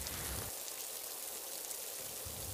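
Pouring monsoon rain falls steadily on open ground where two lion cubs shelter, a dense, even hiss of drops with a low rumbling wash that fades briefly in the middle and returns.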